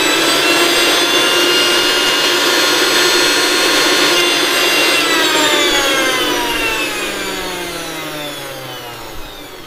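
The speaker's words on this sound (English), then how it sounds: "I have some soaked Kashmiri mirchi which I will grind" A mixer grinder whirs loudly while grinding soaked Kashmiri chilies and garlic into paste, a dense high-pitched motor whine that holds steady, then drops in pitch and fades as the blades slow down near the end.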